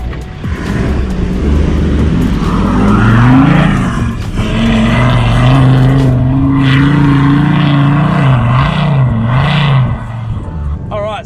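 A 4WD vehicle drives on beach sand in third gear, its engine a loud, steady drone that rises and shifts in pitch, heard close from inside, with no talk.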